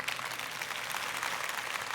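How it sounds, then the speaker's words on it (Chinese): Audience at a seminar applauding, a steady dense wash of many hands clapping at a moderate distance, without a break, for a couple of seconds. "来给点掌声啊，对吧？"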